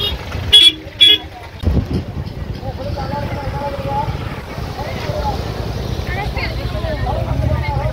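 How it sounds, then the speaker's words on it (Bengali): Heavy car traffic crowds the road at Dhanushkodi, with two loud horn blasts near the start, then a steady rumble of engines and passing vehicles under distant chatter. "প্রচন্ড গাড়ির চাপ এখানে, একটুখানি জায়গা ধনুষকোটির, প্রচুর গাড়ি, চারিদিকে গাড়ি আর গাড়ি,"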